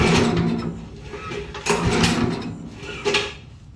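Recoil starter cord of a generator yanked three times in succession, each pull a quick rasping ratchet whir close up, with short pauses between and no engine catching.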